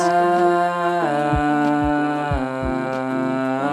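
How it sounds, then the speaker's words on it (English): Several voices sing together in close high harmony, sustained chords shifting step by step, with soft low plucked notes beneath. "A few tracks singing higher pitch sounds like this."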